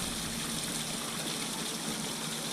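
Water splashing and trickling steadily from a garden water feature, a continuous close wash of falling water heard alone.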